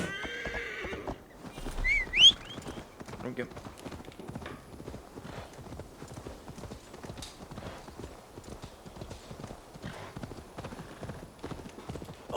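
A horse in Assassin's Creed Valhalla gives a high neigh near the start, then its hooves clip-clop in a steady, continuous rhythm on a road, with someone talking over the hoofbeats.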